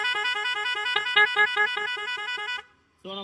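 A custom-fitted horn on a Honda Splendor motorcycle blares close and loud in a rapid pulsing pattern for over two seconds, stops, then gives one more short blast.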